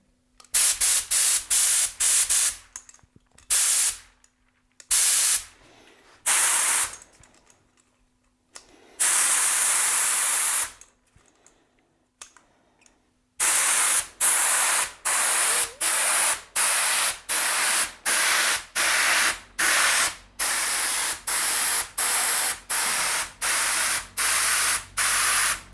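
Professional spray gun with its fan fully open, spraying in a long run of short, even hissing bursts separated by brief gaps, loud and close, with no talking.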